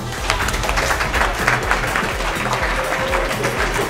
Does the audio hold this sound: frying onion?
no